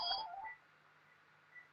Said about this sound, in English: Oops, sorry, that's my phone.